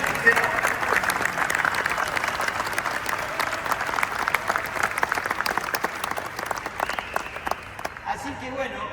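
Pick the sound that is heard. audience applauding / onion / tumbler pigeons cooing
audience applauding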